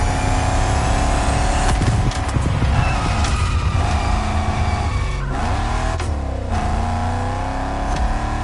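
A Shelby GT500, the first model of the lineup, roars loudly in The Crew Motorfest with a sustained revving engine and repeated tire squeals and skids as it slides through turns, with no speech.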